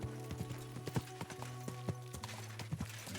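Horse hooves clip-clop in a quick, steady rhythm while riding in Kingdom Come: Deliverance 2, moderately close, over sustained musical tones.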